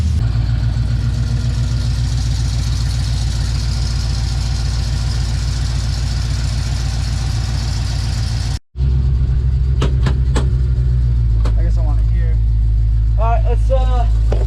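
A Pontiac Firebird that had sat for over thirty years runs steadily and loud for several seconds. After a brief cut, its idle continues at a lower level while a person talks over it.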